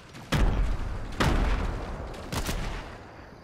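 Three heavy booms from grenades exploding in a video game land about a second apart, each with a sharp onset and a rumbling tail. Nothing else competes with them.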